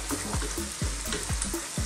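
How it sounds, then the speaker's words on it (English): Masala for chicken balti is stirred in a karahi over high heat, a steady sizzle cut by rhythmic scraping strokes roughly twice a second, close and loud. "on a high heat, keep mixing this around and stirring it"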